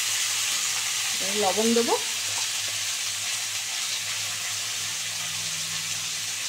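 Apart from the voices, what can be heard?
pumpkin frying in a pan with prawns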